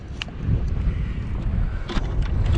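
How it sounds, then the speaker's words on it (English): Strong, steady wind buffeting the microphone in a low roar while catfishing outdoors, with a few brief clicks and knocks over the rumble and no talking. "Keep getting these big old gusts of wind right now."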